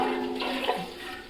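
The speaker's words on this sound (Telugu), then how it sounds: "చికెన్లో నీళ్ళు పోయడం" Water pouring into a pot of chicken curry, a short soft splashing gush heard faintly and alone.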